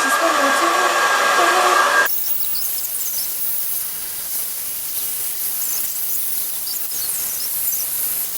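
Hair dryer fitted with a diffuser blowing on hair, a loud close whooshing hiss for two seconds that drops suddenly to a faint airy background.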